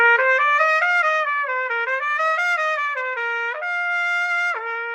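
A trumpet plays a short run of sustained notes climbing a major scale, each note held briefly, clear and close with no talking.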